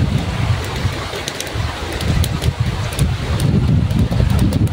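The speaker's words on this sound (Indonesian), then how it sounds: "Ternyata anginnya, guys, cukup besar." Strong wind blowing outdoors during a chicken grilling session, a gusty low rumble buffeting the microphone that swells and rises toward the end, with faint scattered ticks above it.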